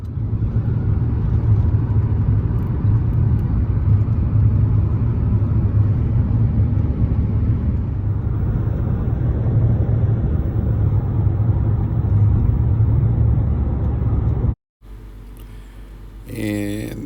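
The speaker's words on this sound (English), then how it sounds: "And this is me driving on our road, County Road 461, coming home." A car driving along County Road 461 in North Georgia, with a steady, loud interior engine and road rumble throughout that cuts off abruptly near the end.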